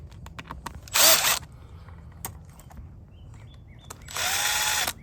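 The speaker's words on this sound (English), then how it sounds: "you're going to use a 3/16 nut driver to loosen these up" A 3/16 nut driver on a power drill loosens bolts on a clamp fitting over a vitrified clay drainage pipe in an outdoor trench, two loud whirring bursts separated by a quieter pause.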